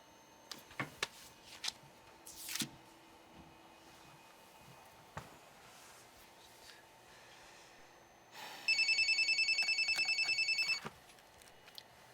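A telephone rings in a quiet office late at night, a steady electronic ring lasting about two seconds after a few faint knocks and rustles, with no voices.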